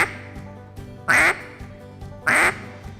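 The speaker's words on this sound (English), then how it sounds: "a hen, she's got a quack that she just a plain contented quack" Two short, loud quacks from a hen mallard duck, spaced about a second apart, each a plain contented call standing out clearly over a quiet background.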